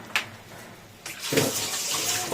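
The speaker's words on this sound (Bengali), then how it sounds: "দেখো এর মধ্যে জল দিয়ে দেবো" Water pours into a pan while a Bengali fish curry is being made, a short splash followed by a steady rushing stream that grows louder and carries on to the end, with no talking.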